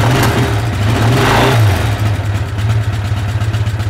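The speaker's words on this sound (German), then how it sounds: "Wir müssen kurz laufen lassen. Der Boxer läuft sehr," A cold Edelweiss boxer-twin motorcycle engine, 175 cc per cylinder, runs loud and close at a steady idle with a brief rev swell midway, then settles back to an even, pulsing throb.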